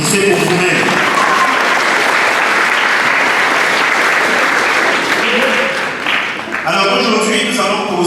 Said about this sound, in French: recevez nos applaudissements. Applaudissez pour vous-même.